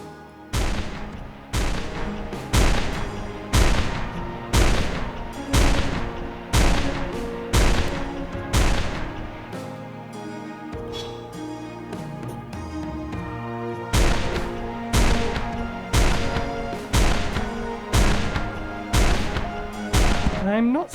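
Sniper rifle rounds fire in Terraria Calamity as a steady, evenly spaced series of loud sharp shots over a game music bed, with a short break in the middle.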